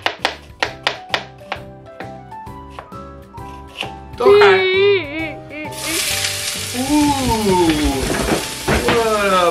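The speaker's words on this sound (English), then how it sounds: "I got my pan hot. Put a little bit of oil into it." Onions in a little oil in a hot pan, with chopping taps first, then a loud, steady frying sizzle building up and carrying on to the end, with tonal sounds over it.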